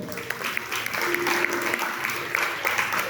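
Church congregation clapping during a sermon, a dense burst of many hands that swells and carries on for a few seconds, with voices mixed into the crowd noise.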